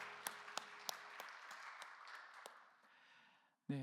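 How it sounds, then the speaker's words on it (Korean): A church congregation at a Korean Sunday youth service claps together, with a few sharper claps standing out, then the applause fades away before a brief sound breaks in at the very end. "우리 박수로 서로의 삶과 신앙을 축복합시다."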